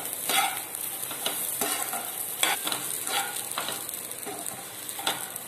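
Onion and chana dal fry together in a pan, with a steady hissing sizzle and irregular scraping strokes of a spoon, close and moderately loud.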